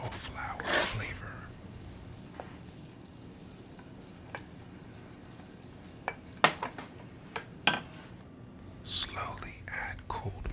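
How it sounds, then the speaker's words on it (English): A wooden spoon stirs a flour roux in a pan, with soft scraping and a quiet simmering sizzle, broken by a few sharp taps against the pan and a whispered voice. "Use a wooden spoon to mix the ingredients together, breaking up any clumps, and bring the roux to a low simmer"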